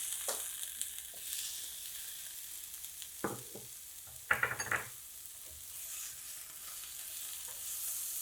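Chopped tomatoes tipped into a pan of frying spiced potato and okra, giving a few soft thumps and stirring scrapes over a steady background sizzle, with no talking.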